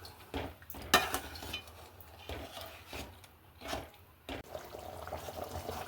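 A spoon stirs fish curry in a cooking pot, giving soft intermittent scraping and liquid sloshing strokes, quiet and close, with a light bubbling simmer between the strokes.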